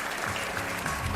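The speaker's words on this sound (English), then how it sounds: "Please give them another big round of applause." An audience at a Seoul conference on AI privacy claps in a steady, even wash of applause at moderate volume, with no voices over it.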